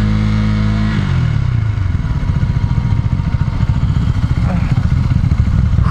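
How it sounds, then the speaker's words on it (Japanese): A motorcycle engine idling then dropping into a low, throbbing rumble close by, steady and loud throughout. "すげえバイクや"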